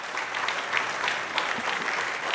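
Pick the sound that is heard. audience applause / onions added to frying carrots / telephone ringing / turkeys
audience applause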